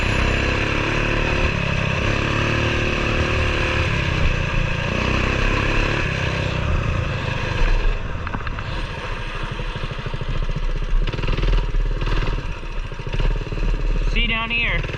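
A Coleman BT200X mini bike engine runs on dirt trails, a steady loud buzzing drone with small shifts in revs, heard up close under wind rumble.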